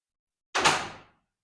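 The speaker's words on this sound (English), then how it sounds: "very solid door" Heavy, very solid door in a historic mansion in Montepulciano, Italy, closing once with a single sharp thud that fades quickly; alone in a quiet room.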